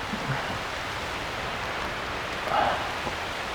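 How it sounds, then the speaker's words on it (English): Rain falls in a rainstorm as a steady, even hiss of drops with no other sounds standing out. "sometimes there's actually something nice about a good rainstorm"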